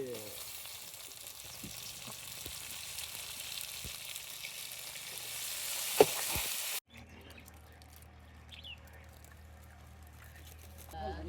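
Tomatoes fry with onion, green chili and ginger-garlic paste in a village-style pan, a loud steady sizzle with stirring clatter that cuts abruptly to quieter cooking sounds and faint voices.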